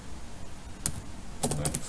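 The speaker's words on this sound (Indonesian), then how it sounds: "Oke, kita ketikkan ya, kita ketikkan function" Quiet keystrokes on a computer keyboard while typing code into a Node.js terminal, a few isolated taps followed by a quick cluster of clicks.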